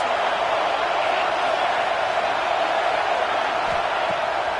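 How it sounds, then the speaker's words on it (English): Dense, steady roar of a stadium crowd at a football game, loud and sustained throughout, close and enveloping without a break. "Listen to this crowd just shaking the girders of this place, trying to help their defense."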